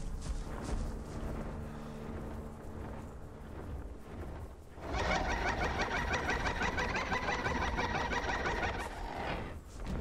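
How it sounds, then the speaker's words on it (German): A flying reptile in the video game Path of Titans, cackling in rapid, repeated clucking bursts that grow loud and dense midway and hold steady, over a rumbling game background with no talking. "dieser Vogel nervt uns jetzt die ganze Zeit, weil wir den vorhin gekillt haben. Fliegt uns immer hinterher und gackert die ganze Zeit."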